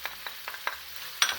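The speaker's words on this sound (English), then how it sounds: "and keep stirring and frying." Chicken stirred and fried in a pan with turmeric and chili powder for jalfrezi, a few short scraping strokes and soft sizzling spaced unevenly, ending on a louder scrape, close and fairly quiet.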